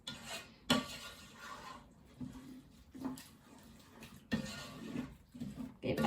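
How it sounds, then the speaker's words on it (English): Mexican fiesta rice is stirred in a pot with a utensil, giving soft, irregular scrapes and light clinks at close range against a quiet background. "Give that a nice stir."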